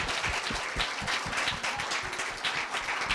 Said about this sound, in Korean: 김한규 학생에게 다시 한번 큰 박수 부탁드립니다